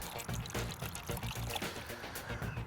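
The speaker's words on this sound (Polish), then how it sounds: "wlewamy troszeczkę e, płynu do jakiegoś pojemnika, dolewamy wody" Water pours steadily into a container with a bubbling, gurgling splash while mixing fishing groundbait with attractor liquid, close and fairly quiet, with faint talking underneath.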